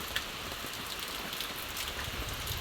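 Heavy rain pours in a continuous, dense hiss with scattered drops hitting nearby surfaces, steady and fairly loud with no voices.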